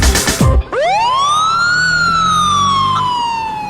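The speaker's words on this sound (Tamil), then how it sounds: "ஆட்டோக்காரண்ணா, பின்னாடி ஆம்புலன்ஸ் வருது பாருங்க" An ambulance siren wails loud and close on a road with auto-rickshaw traffic, rising in one long sweep and then sliding slowly downward after a brief rumbling start.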